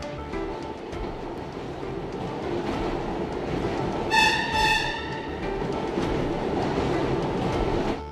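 A New York City subway train rumbles and clatters steadily along the rails, loud and close, with a brief high squeal of wheels or brakes midway through.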